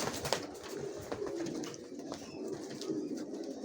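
Racer pigeons coo softly in a loft, several low repeated calls overlapping against a faint background hum, with no talking.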